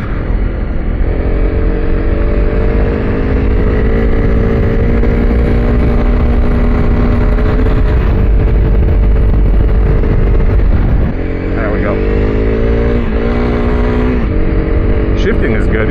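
A Honda CRF300L Rally motorcycle climbs uphill through snow, its single-cylinder engine droning loud and close with steady revs, dipping briefly then pulling again as the rider shifts; a voice talks over it.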